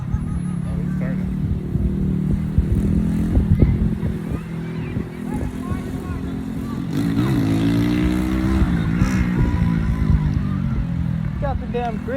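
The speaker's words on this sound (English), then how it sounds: "Got the damn Grinch on a motorcycle" A motorcycle rides past outdoors at a camp, its engine rumbling steadily and swelling as it nears and turns, mixed with other vehicle noise while people talk nearby.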